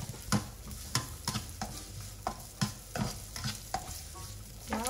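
Onions, garlic and herbs sauté in a pot for Vietnamese beef stew, with a soft continuous sizzle broken by repeated scraping strokes of a stirring utensil at an uneven rhythm.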